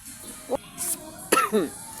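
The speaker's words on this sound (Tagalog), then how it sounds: "At itong ubo ko, andito pa din." Two short coughs separated by a pause, close and moderately loud, over quiet room noise.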